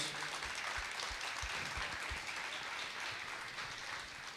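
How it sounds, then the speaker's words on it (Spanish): An audience applauds guests at a testimonial panel on families of people with Alzheimer's, a steady, fairly faint wash of clapping lasting several seconds with no talk over it. "Fuerte aplauso vos para ellos"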